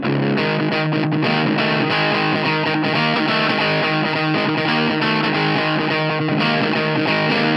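A crunchy electric guitar through a Source Audio LA Lady overdrive pedal on its crunch setting, drive boosted, strums chords continuously, loud and gritty with sustained distortion and no speech.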